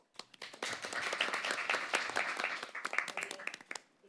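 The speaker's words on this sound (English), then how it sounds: "a round of applause for our judges and moderator" Audience applause for debate judges and a moderator at an IPPF semifinal event, a dense, sustained patter of many hands clapping at moderate distance, rising quickly and tapering off after about four seconds.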